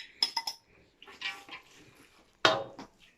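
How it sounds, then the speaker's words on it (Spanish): Bacon going into a pan of creamy shrimp spaghetti: a few close clinks and scrapes of utensil on pan, with a sharp clatter near the end between quiet pauses. "Vamos a agregar nuestro tocino"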